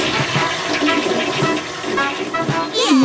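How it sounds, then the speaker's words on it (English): A toilet flushing with a loud, continuous rush of water that swirls and drains, ending in a rising refill gurgle near the close. "Have you flushed?"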